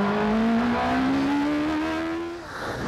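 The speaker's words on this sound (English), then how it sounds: "The competitors use SR4 sports cars powered by 1200cc motorcycle engines, producing around 190 brake horsepower." A Radical SR4 sports racing car powered by a 1200cc motorcycle engine at Croft, its high engine note holding a steady pitch and rising gradually, loud and close, then fading away near the end.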